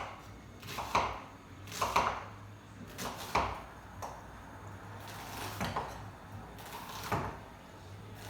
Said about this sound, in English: when it dices up nice and fine, cut it in half.